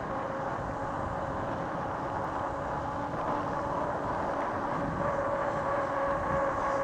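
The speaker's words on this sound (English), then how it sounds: "Hear those tires hum." A 1000 watt electric bike's tires hum on the road at speed, a steady, even drone with some wind rush, heard alone without talk.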